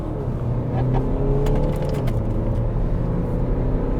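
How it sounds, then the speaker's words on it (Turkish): An Audi A5 40 TDI Quattro diesel accelerating hard in sport mode on the road to Dortmund airport, a loud steady engine drone with rising harmonics heard from inside the cabin, with no talk over it. "Fazla detaya girmeden Dortmund Havalimanı yolunda gazlayarak başlamak istiyorum"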